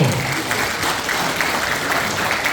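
A crowd at a year-end political party gathering and lecture applauds steadily, a dense, even clapping that fills the hall from start to finish with no voices on top.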